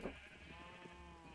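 Sheep bleating in the video game Minecraft, a short bleat near the start over a steady, busy game background with no talk.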